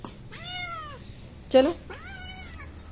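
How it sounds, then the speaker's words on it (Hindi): A hungry cat meows three times in quick succession, clear and close, while someone briefly speaks over one of the calls. "आ गई है हमारी बिल्ली रानी, और लग गई है इसको भूख।"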